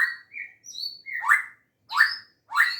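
Songbirds, kept as caged white-rumped shama (murai batu) singers, chirping and whistling in a bright close sequence of short rising calls with brief pauses between them, with no talk.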